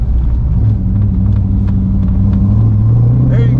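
A Corvette's engine idles at a 2021 Corvette show in Carlisle, its deep, steady rumble loud and close, with a slight rise in pitch near the end.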